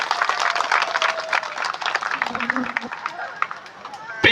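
An audience at a church thanksgiving service welcoming a new priest breaks into applause, dense clapping rising up close and then thinning out as it fades, with a few voices mixed in.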